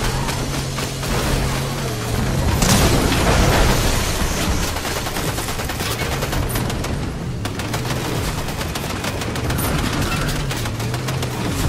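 Rapid bursts of gunfire in Fortnite as players shoot at a car, loud and sustained with a heavier barrage early on, under steady game noise.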